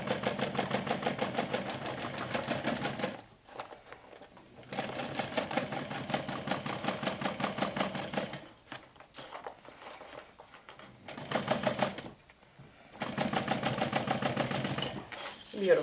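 Sewing machine stitching a mini backpack, several fast rhythmic runs of stitching separated by short pauses, close and fairly soft, with brief quiet gaps between bursts.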